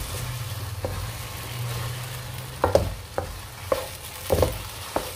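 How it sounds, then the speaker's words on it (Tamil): Kesari mixture cooking in ghee in a pan, a low steady background with a handful of sharp spatula scrapes and taps spaced irregularly through the stretch, no voices. "இது அப்படியே ஒரு 10 மினிட்ஸ் நல்லா வதங்கட்டும்."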